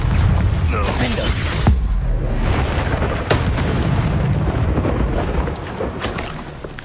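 A Confringo spell in Hogwarts Legacy bursts in loud, booming explosions, a rumbling roar that stays dense for several seconds with sharp blasts cutting through near the start and middle.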